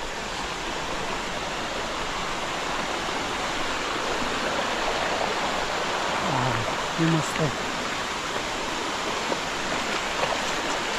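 Devle waterfall near Devarukh in Sangmeshwar roars as a constant, dense wash of falling water heard close and loud, with a voice speaking briefly over it.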